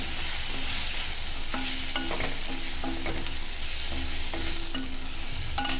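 Chili powder and salt being stirred into frying potatoes in a pan for a potato fry: a steady close sizzle with scraping stir strokes and a couple of sharp ladle clinks, with no talking.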